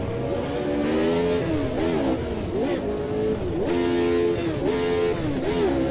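Race car engine in the Automobilista 2 racing game revving hard and loud, climbing and dropping in pitch through repeated gear changes, with a constant roaring drone close up and no talking.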